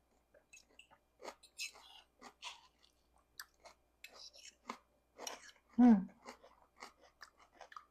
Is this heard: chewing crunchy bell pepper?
yes